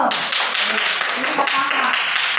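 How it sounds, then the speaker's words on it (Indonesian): A classroom of people clap together in a dense, steady burst of applause lasting a couple of seconds, loud and close. "Tepuk tangan dulu."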